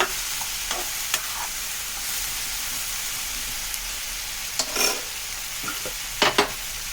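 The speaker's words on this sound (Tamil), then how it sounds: "நல்லா கிளறி கொடுத்துக்கிடுங்க" Okra sizzles in hot oil for vendakai kara kuzhambu while a spoon stirs it, a steady close frying hiss broken by a few scraping stirs against the pan.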